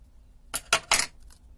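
Scissors snip a paper Christmas craft apart in three quick close cuts, then a fainter fourth snip, in a quiet room.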